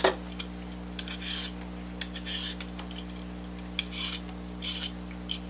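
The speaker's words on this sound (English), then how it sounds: "it's easy to peel with a carrot peeler" Butternut squash being peeled with a carrot peeler, a series of short close scraping strokes in an uneven rhythm with small clicks between them over a steady background hum.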